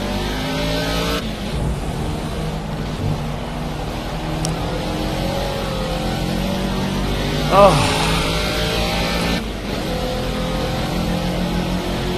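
Caterham race car engine in a racing game on the Cadwell Park circuit, a constant buzzing drone with gear shifts and small pitch changes, close and steady, with a brief spoken exclamation over it.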